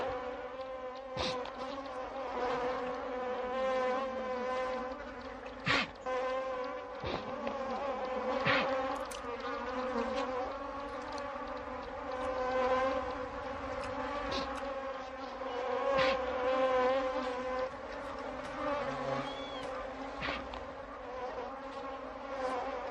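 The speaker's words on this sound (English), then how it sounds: "African bees, like everything else, are desperate for sustenance." African bees buzz continuously in a dry wild setting, a dense steady drone of many insects with individual wingbeats swelling and fading as they fly close and away, no voices present.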